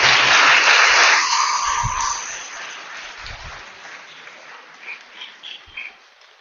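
A church congregation at a novena Mass breaks into dense applause that fades after a couple of seconds, leaving scattered faint claps and murmurs in a large room.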